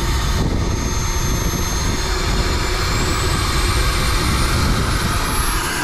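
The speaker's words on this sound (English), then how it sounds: "Ooh, that jet loud." A loud jet engine runs steadily at high power, a constant roaring whine with a high-pitched tone riding on top, close by.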